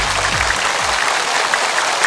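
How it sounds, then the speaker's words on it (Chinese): Studio audience at a Chinese variety show breaks into loud, dense applause, a continuous wash of many clapping hands filling the hall, close and steady with no speech over it. "好棒，掌声"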